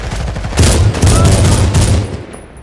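Rapid bursts of gunfire from the Medal of Honor team deathmatch closed beta game, loud and dense with repeated shots over roughly two seconds and a faint voice underneath.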